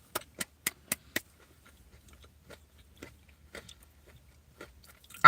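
Person chewing a snack up close, five sharp crunchy bites in quick rhythm followed by quieter scattered chewing clicks, with no talk.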